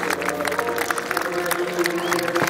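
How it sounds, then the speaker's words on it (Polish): An outdoor crowd at a Poznań commemorative event applauds participants and soldiers, with sustained, dense clapping throughout and a low hum underneath. "Jeszcze raz brawa dla uczestników."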